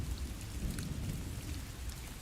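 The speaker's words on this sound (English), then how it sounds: "It's hard to hear their voices through the pouring rain." Heavy pouring rain in the video game Guilty Parade, a steady dense wash of drops with low rumbling beneath, continuous throughout and no voices.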